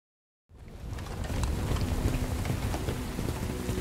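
Rain in the video game Bright Memory Infinite fades in from silence into a steady, dense downpour, with close pattering drops over a broad hiss and a faint low rumble underneath, and no voices.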